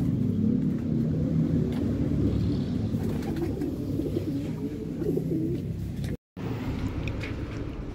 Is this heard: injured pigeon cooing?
yes